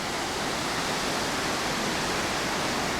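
River water rushes through carved stone channels beneath a bridge, a dense, steady roar of constant loudness with no voices.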